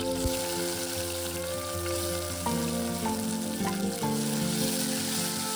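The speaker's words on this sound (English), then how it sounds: "I added some whole spices, just enough to give a little depth, not too much. And then tomatoes, saute a little bit." Tomatoes and whole spices sautéing in a pan, a steady close sizzle with faint tonal hum and occasional stirring scrapes, no voices.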